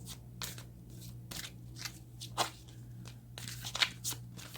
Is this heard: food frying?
no